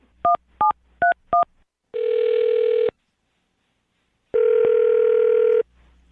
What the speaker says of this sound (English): I'm going to dial her phone number.